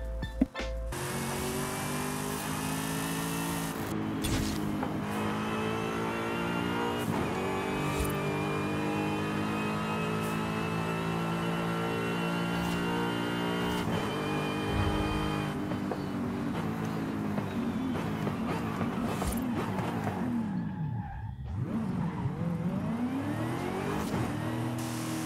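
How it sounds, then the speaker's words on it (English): Supercharged V8 engine of a Chevy Corvette ZR1 in the racing video game Forza Horizon 5, revving and accelerating through repeated gear changes with rising and falling pitch, loud and continuous. "It's actually the Chevy Corvette ZR1, the supercharged V8. This thing sounds mean."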